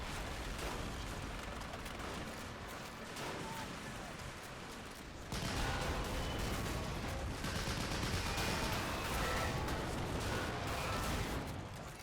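Dense wartime battle from the Men of War strategy game, with gunfire and cannon shots during a beach assault: a continuous wash of crackling fire that grows louder and busier about halfway through, with no pauses.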